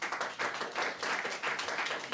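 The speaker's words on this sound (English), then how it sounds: "can I ask you to give a big round of applause to GAA President Egon Friel." Audience applause at a GAA hurling league preview event, a steady burst of hand clapping from a crowd that carries on evenly for a couple of seconds, moderately loud with no voices over it.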